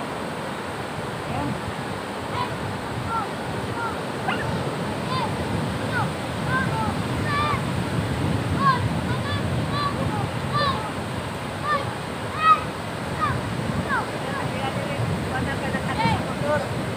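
Steady rushing surf of heavy monsoon-driven waves breaking nearby, a continuous wash of water noise with scattered voices talking faintly underneath.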